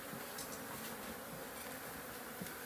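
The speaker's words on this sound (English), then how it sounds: "Hello, honeybees. We got bees." A steady, dense buzzing of a large honeybee colony inside a wall fills the air without a break, fairly faint and continuous throughout.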